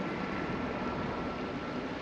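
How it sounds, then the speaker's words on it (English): A helicopter flying over an emergency scene near Silverton, a steady distant rotor and engine drone holding even throughout, with no talk. "that was 5 emergency vehicles, and unfortunately now the helicopter"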